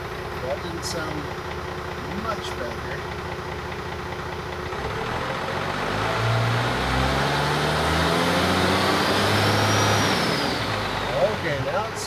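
A second-generation Cummins diesel truck engine idling low in neutral, then rising into a sustained rev with a deep rumbling drone that climbs in pitch and falls back, close and steady, with brief talk over it.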